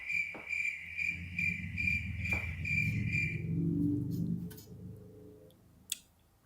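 Crickets chirp in a steady, evenly pulsed rhythm, loud and close, for about three and a half seconds before falling silent and leaving a low rumble.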